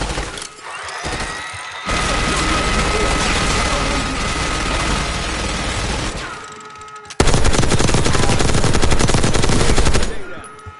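Sustained automatic gunfire in Call of Duty Black Ops 6, loud and dense bursts that pause briefly around seven seconds, then resume even harder until fading near the end.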